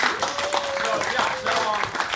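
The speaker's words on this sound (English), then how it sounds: "so we should all clap for that" Audience clapping at a student orientation event, a steady dense patter of many hands filling the room throughout, with voices talking over the applause.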